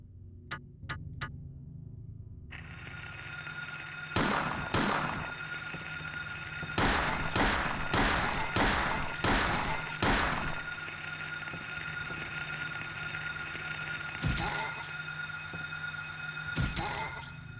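Video game gunshots ring out as sharp, evenly spaced cracks, a few early, then a rapid string of six or so, and two more near the end, over a steady humming backdrop.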